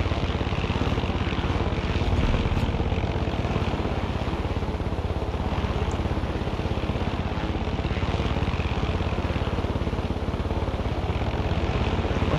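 A helicopter flies in the video game Far Cry 6, its rotor and engine making a loud, unbroken drone that stays close and steady throughout, with no voices.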